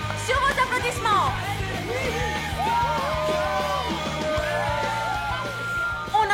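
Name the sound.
audience applause and cheering welcoming performers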